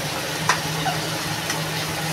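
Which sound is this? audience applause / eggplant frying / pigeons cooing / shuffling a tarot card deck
eggplant frying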